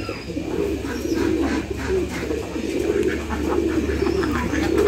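Pigeons perched in a mango tree give repeated low rolling coos in a steady rhythm, several calls overlapping at moderate distance, with faint outdoor ambience and no talk.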